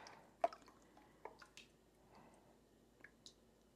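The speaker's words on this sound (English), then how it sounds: "So you just ladle everything through here." Chicken stock is ladled through a fat separator strainer, giving soft, faint drips, splats and small wet squishes scattered irregularly across a quiet kitchen background.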